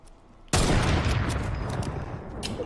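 Gunfire in Fortnite Battle Royale breaks out abruptly after a quiet moment: a loud, dense burst that keeps roaring and crackling without a gap until the end.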